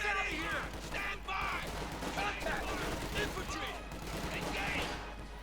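Rapid gunfire from a light machine gun during a Company of Heroes 2 battle, steady bursts and battle din running under a commentator talking throughout.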